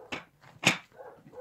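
Hunting dogs on a roe deer trail give two sharp, clear barks a half second apart, followed by softer whimpering yips, all nearby with no voices.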